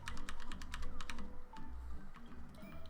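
Rapid, crisp clicks of a computer keyboard's Q key being slapped over and over during a Spiral Scouts speedrun, a dense run of close taps with game sounds behind and no talking.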